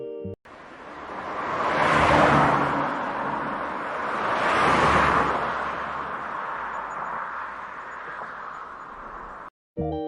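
A car passes by twice in a row, each pass a broad rushing whoosh that swells and fades, steady road noise lingering between and after, with no voices.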